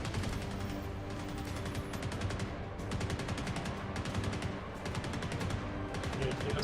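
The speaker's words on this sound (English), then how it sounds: "Oh, gunfire." Rapid bursts of automatic gunfire in Star Citizen crackle continuously and loudly, dense volleys overlapping with a few sharp single shots throughout.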